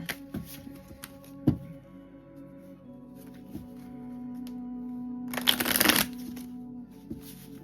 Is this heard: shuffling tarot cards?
yes